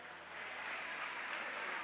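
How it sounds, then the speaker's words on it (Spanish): Popular Party benches in the Spanish parliament break into sustained applause, a dense, even roar of many hands clapping that stays steady and fairly distant throughout. "37 segundos de aplausos desde la bancada popular con el enfado de algún diputado socialista"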